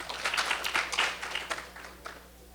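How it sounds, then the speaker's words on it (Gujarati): Audience in a devotional assembly hall clapping to welcome a devotee, a burst of hand claps that swells then thins out and fades over a couple of seconds. "એટલે ભગતના પણ એક વખત આપણે તાળીઓથી વધાવીએ."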